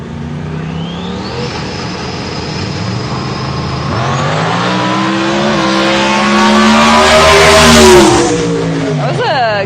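Radial drag racing car launching down the track at a Radial Outlaws event, a loud close engine roar climbing steeply in pitch through rapid revving with a harsh, rising exhaust note, with voices heard in the background.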